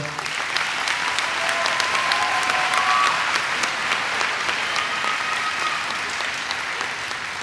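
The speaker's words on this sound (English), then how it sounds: "A round of applause, please, for the row." An audience claps steadily at the 2018 TCNJ Elementary and Early Childhood Education commencement ceremony, a dense sustained round of applause from a large crowd with no talking.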